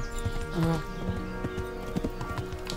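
Horse hooves clip-clop at a walk in the Kingdom Come: Deliverance video game, an irregular series of close hoof knocks over soft background music.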